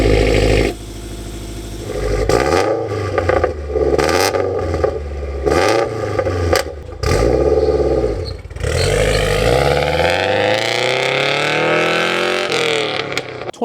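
Subaru WRX with a valved titanium exhaust revs hard and loud in repeated bursts, the engine note rising and falling several times before a long climbing rev toward the end.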